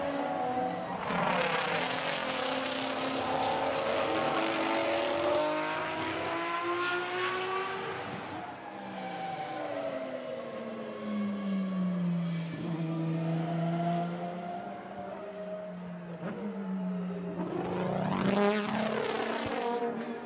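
Lamborghini Huracan-based GT race cars roar past at a circuit demonstration race, engines rising and falling in pitch as they accelerate and pass, loud and continuous over twenty seconds with no talk.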